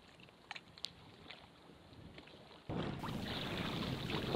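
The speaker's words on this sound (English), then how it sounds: "looks like I'm paddling upwind" A kayak paddled upwind across an open lake: faint paddle strokes and dips in the water, then a sudden loud rush of wind buffeting the microphone that covers everything.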